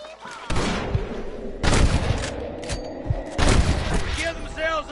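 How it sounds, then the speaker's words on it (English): Gunfire from the Red Dead Redemption remaster on PS5 booms out in several loud, heavy bursts spread across the clip, with echoing tails and a crackle of shots between them, close and dominant. "I can hear more gunshots."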